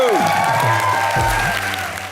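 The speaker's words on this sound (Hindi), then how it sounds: "विवेक के लिए जोरदार तालियां" A studio audience on a TV comedy show applauds Vivek, dense loud clapping and a little cheering layered over a sliding musical sting, fading slightly at the end.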